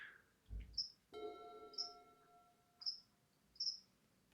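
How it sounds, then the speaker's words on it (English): Crickets heard during a Legacy Magic: The Gathering game, chirping in four short, evenly spaced bursts, faint and steady, over a low background hum with brief tonal noises from the game. "By the way, if you're certainly hearing something, that's crickets."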